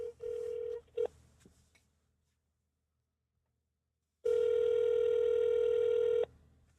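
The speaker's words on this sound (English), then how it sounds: "so we give Mr. Jones a call, and this is what transpired" A telephone being dialed to place a prank call: a few short tones, then silence, then a long loud ringback tone that stops abruptly, heard close and alone.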